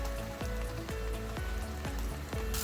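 Kebab meat for kobeda tacos sizzles steadily in a hot pan, a constant close crackling hiss with soft rhythmic ticks and no voices.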